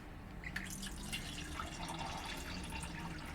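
Homemade beet kvass being poured, a steady trickling, splashing stream of slightly fizzy liquid running continuously at close range with no talk.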